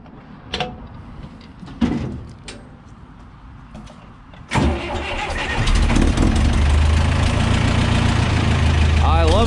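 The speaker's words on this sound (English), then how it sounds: "So we gotta fire up this tractor." A farm tractor that has sat unused since spreading oats is cranked and fires up: quiet handling noises first, then a sudden start at about four and a half seconds settling into a loud, steady idle with low rumble.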